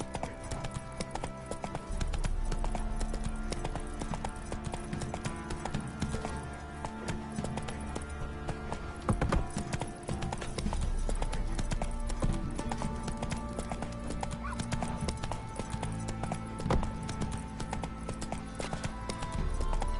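Horse hooves clip-clop in a steady, continuous riding rhythm from the video game Witcher 3. A low game ambience runs under the hoofbeats and there is no speech.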